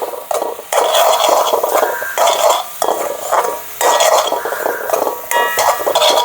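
Onion and spice mixture for vandil mavadai stirred in a pan, loud close scraping strokes in repeated bursts over a sizzling background.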